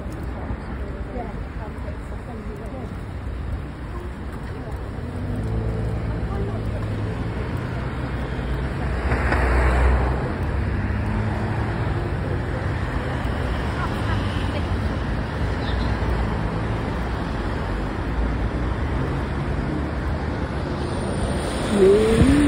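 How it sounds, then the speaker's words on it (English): Road traffic rolls past on a roadside, a steady broadband wash with one nearer vehicle swelling louder around the middle before fading, mixed with wind and surf-like rumble throughout. "a little traffic now"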